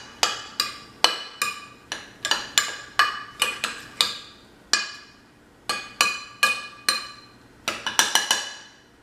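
A utensil clinks repeatedly against a bowl while cardamom and cinnamon are stirred into raw vegan curry rice, sharp, close taps in an uneven rhythm with short pauses and no talk.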